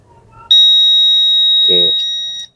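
A multimeter in continuity mode gives one loud, steady high-pitched beep lasting about two seconds while a diode in a digital TV set-top box is tested, with a brief low voice sound partway through.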